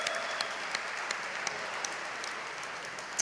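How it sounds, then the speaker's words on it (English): An audience at an awards ceremony breaks into a round of applause, a dense, sustained wash of clapping with a few sharper individual claps standing out close by. "Big round of applause."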